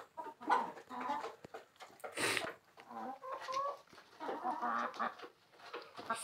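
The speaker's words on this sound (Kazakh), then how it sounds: "Міне сары брама шатыс тауық." Brahma-cross hens cluck in a flock, some of them yellow, with soft repeated clucks and low murmurs close by in a hot Atyrau yard. No one speaks.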